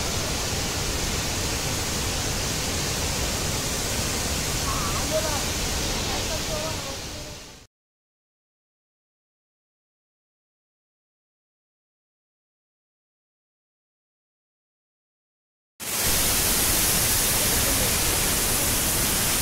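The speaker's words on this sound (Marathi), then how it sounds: "हा आहे छोटा धबधबा ज्याची उंची 110 मीटर एवढी आहे" The 110-metre small fall at Thoseghar near Satara roars with a dense, steady hiss of rushing water. The sound cuts out completely for about eight seconds midway, then returns just as loud.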